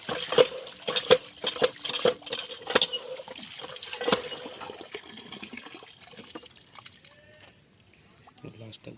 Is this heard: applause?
no